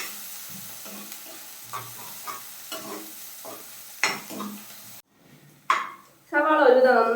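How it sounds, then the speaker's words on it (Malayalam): Chopped onion sautés in oil for a roasted-coconut squid curry, with a soft close sizzle and repeated stirring scrapes for several seconds. A short pause follows, then a brief burst of talk. "സവാള നന്നായിട്ടൊന്ന് വഴണ്ട് കിട്ടണം നമുക്ക്"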